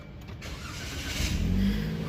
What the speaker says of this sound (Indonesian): cukup kita injek rem aja dan tekan start button yang ada di tengah ini untuk menyalakan mesinnya